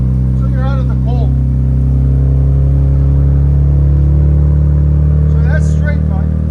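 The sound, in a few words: 2025 RAM RHO 3.0L Hurricane I6 straight pipe exhaust revving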